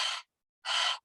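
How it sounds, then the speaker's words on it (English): Panting breath with the tongue extended in a breathing exercise: two short, breathy, airy exhalations separated by a brief pause, close and clear with no talk. "You can also try it by extending the tongue and sort of panting."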